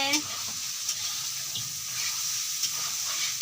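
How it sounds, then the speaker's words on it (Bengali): Meat masala for a chicken curry sautés in a pan with a steady, fairly quiet sizzle, with occasional sharp knocks and scrapes from stirring. "এখানে মাংসের মশলা কষানো হচ্ছে"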